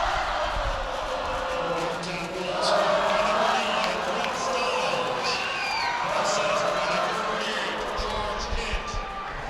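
Loud crowd at a high school ice hockey game between Washington-Lee and Yorktown, cheering and roaring steadily with swells of whoops and shouts, a commentator talking over the noise throughout.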